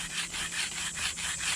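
An Inuit knife blade is rubbed on sandstone in a quiet, even back-and-forth rhythm of soft gritty strokes, about five passes at close range.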